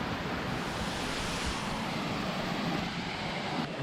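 A small jungle waterfall, Cascade aux Écrevisses in Guadeloupe, gives a steady, fairly close rush of falling water that stays even and continuous throughout, with no voices.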